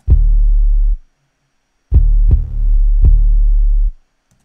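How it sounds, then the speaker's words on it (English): A hip-hop beat intro built on deep, booming 808 bass notes: one sustained hit, a short gap, then a longer rumbling stretch with a few punchy accents before it cuts off. "And then I added just a slight 808 to the intro."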